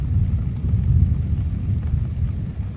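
Thunder from an afternoon thunderstorm in northern Minnesota gives a continuous low rumble. It rolls steadily at moderate loudness with no voices.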